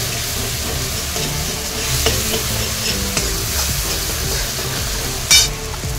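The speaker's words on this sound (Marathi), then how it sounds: "जिंजर गार्लिक पेस्ट सोडत आहे। आणि पुन्हा याला चांगले परतून घेते" Ginger garlic paste sautéing in a pan: a loud, continuous close sizzle with spoon scraping and stirring throughout, a couple of light taps and a brief sharp clink near the end.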